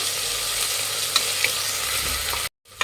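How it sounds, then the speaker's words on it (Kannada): Ginger garlic paste fries on a medium flame in a pan, giving a steady close sizzle with a couple of light utensil taps, before a brief cut and a quieter resumption. "ಶುಂಠಿ ಬೆಳ್ಳುಳ್ಳಿ ಪೇಸ್ಟ್ ಹಸಿ ವಾಸನೆ ಹೋಗೋವರೆಗೂ ಫ್ರೈ ಮಾಡಬೇಕಾಗುತ್ತೆ"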